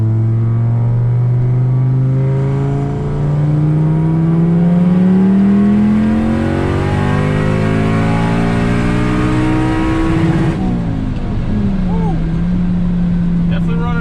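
A car fitted with a Borg Warner S257SXE turbo pulls hard at wide open throttle, the engine note rising steadily and loudly for about ten seconds before the revs drop sharply as the throttle lifts.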